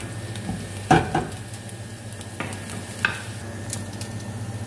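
Chicken goes into a hot pan with garlic and sizzles steadily while being stirred, a spoon scraping and clinking against the pan a few times, close and moderately loud.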